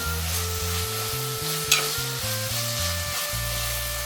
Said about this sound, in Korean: 이제 잘라놓은 고사리를 넣고 양념을 섞어주세요.